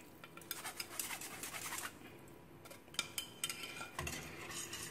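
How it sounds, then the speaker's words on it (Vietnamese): Scraping and clinking of a utensil stirring flour batter in a pot for bánh nậm, with irregular taps and swishes, close up and moderately loud. "Các bạn quấy bột như quấy làm bánh tẻ nhé."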